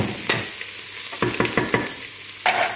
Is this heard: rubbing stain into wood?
no